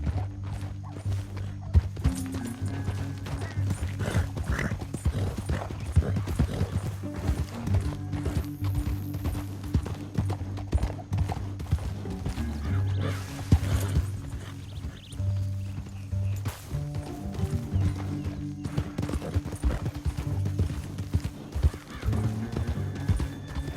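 Horse hooves clip-clop steadily in Red Dead Redemption 2, a continuous run of close hoofbeats with an occasional whinny, while talk is heard faintly in the mix.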